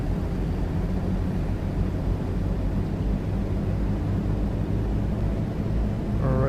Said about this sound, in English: let's try and get the plane moving and let's see what happens.